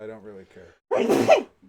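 A person sneezes once, loud and close, right after a short spoken phrase, with a brief burst that trails off quickly.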